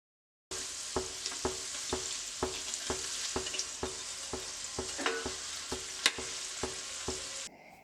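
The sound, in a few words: creamy chicken rolls deep frying in oil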